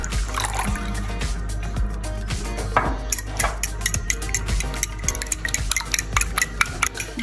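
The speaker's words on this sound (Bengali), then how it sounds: "এখানে আমরা ফেটে রাখা ডিমের ভিতর লিকুইড দুধটা মিশিয়ে নিলাম।" Liquid milk being mixed into beaten eggs for egg pudding, with a utensil clinking and scraping against a bowl in quick repeated taps and swirls, close and fairly loud throughout with no voices.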